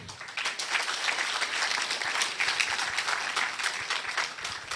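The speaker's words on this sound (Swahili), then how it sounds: "Makofi." Audience applause at a county best practice award forum, a dense steady clapping from a crowd that holds at an even level throughout without pause.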